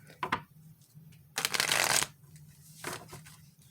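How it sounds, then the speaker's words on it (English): A deck of oracle cards is shuffled by hand indoors, with three quick riffling bursts, the longest in the middle, fairly close and soft with no talk over them. "Let's see if we could get a shuffle."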